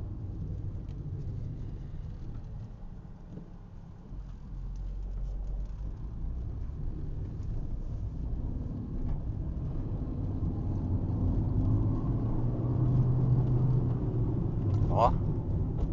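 The 1.0 engine of a 2016 Fiat Uno Attractive revs up, its low rumbling drone building steadily in loudness over about fifteen seconds, with a person talking over it.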